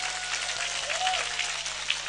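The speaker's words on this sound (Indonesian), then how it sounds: "Oke, tepuk tangan untuk Ibu." An audience at a religious gathering gives a woman a round of applause, a steady, dense clatter of many hands lasting a couple of seconds at moderate volume.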